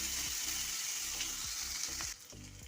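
Seven or eight chopped small shallots and a green chili with a pinch of salt sauté in a pan, a loud, continuous close sizzle broken by regular scraping strokes of stirring.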